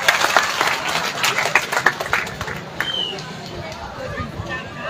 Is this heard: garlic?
no